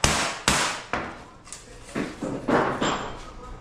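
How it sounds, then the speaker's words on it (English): Repeated metal hammer strikes ring out at uneven intervals, about eight sharp clanging blows close by in a workshop, hammering out car body panels. "he's gonna hammer out some body panels"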